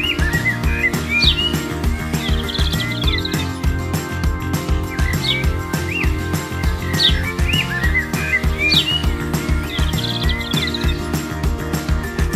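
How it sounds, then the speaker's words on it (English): Birds chirp and tweet near the first station of a toy train ride at a manmade beach in London. Bright, repeated bursts of song return every few seconds over a steady, tonal background hum. "Here you may be able to hear some birds singing."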